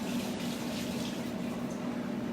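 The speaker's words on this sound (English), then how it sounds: "let me wash my fingers off real quick" Fingers rinsed under a running kitchen tap while making air fryer wings: a steady, even rush of water, close and continuous throughout with no talk.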